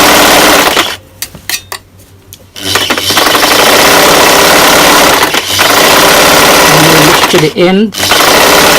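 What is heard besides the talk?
sewing machine stitching T-shirt fabric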